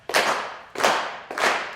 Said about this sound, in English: So we start off with a nice slow clap.